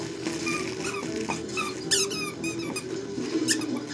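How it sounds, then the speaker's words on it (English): A dog's squeaky toy squeaks over and over in quick, close bursts of varying pitch, with scuffling between the squeaks as the dog plays with it. "Did you find another squeaker?"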